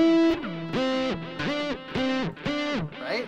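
A distorted electric bass plays a repeating phrase, recorded with no amp, its notes swooping up and down in pitch through a whammy pedal, with a few delay repeats trailing each note.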